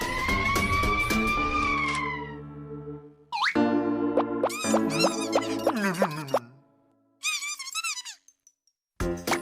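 Cartoon ambulance siren in a children's animated show, a long wailing tone followed by bouncy rising and falling electronic sweeps and boing-like effects, clear and upfront with short silent gaps between bursts.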